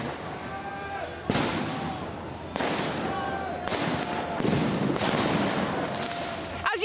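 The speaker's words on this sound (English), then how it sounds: "Tear gas keeps being shot at the protesters." Loud sharp bangs of tear gas canisters fired at Paris Yellow Vest protesters go off at irregular intervals, each followed by a hissing, rushing trail, amid a constant noisy crowd roar.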